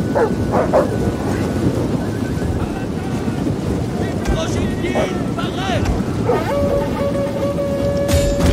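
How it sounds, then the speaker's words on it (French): War dogs bark in the battle game Attila Total War, with several short barks scattered over a steady, loud bed of wind-like battle noise. "Ils ont lâché les chiens"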